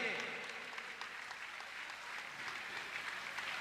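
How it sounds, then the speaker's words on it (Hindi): Audience applause at a Jain coronation ceremony for Bharat and Bahubali, a steady, broad wash of clapping from a large crowd that holds for several seconds, fairly distant and soft. "सबकी तालियां बजनी चाहिए।"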